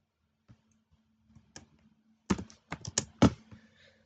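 Computer keyboard typing: scattered single taps at first, then a quick burst of clustered keystrokes, close and crisp with no talking.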